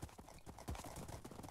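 Rapid clip-clop of horse hooves, close and busy, a quick galloping rhythm throughout, in the video game Minecraft.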